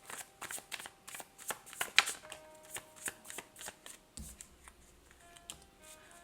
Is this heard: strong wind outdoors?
no